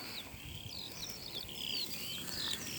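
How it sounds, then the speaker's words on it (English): Faint, high-pitched bird chirps and trills at a bird reserve in Miranda, scattered through steady outdoor background noise, distant and continuous. "You can probably hear the birds in the background."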